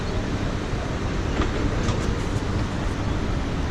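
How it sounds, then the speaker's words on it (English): A train at Sydney's Central Station rumbles steadily along, a constant broadband roar with faint rail clatter and a few brief high squeals. "and this is the train"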